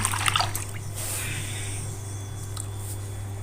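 Water trickles and splashes as something is washed by hand, with a few brisk sloshes at the start. A steady low hum runs underneath.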